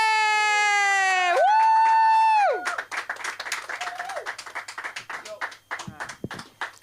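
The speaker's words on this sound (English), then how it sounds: "Put your hands together for the one, the only" A comedy club crowd applauds and whoops for comedian Julio Lemos, scattered claps and cheers rising under a loud, sustained announcer's voice and then continuing as a sparse, uneven patter.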